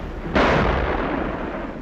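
A single loud anti-aircraft gun blast booms, close and heavy, its rumbling wash trailing off slowly through the rest of the moment.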